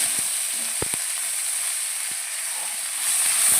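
Ginger, garlic and onion paste sizzling in hot oil, a bright steady hiss throughout with a couple of brief spoon knocks near the start, close and loud, no talking.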